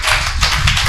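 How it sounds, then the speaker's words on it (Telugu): A short burst of loud audience clapping at a church sermon, dense and close, lasting under a second. "చప్పట్లు కొట్టిన గట్టిగా"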